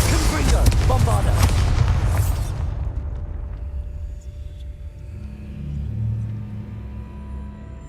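Bombarda spell going off in Hogwarts Legacy: a heavy booming blast with a long rumbling roar that decays over a few seconds into a low hum, loud and close, with no talking.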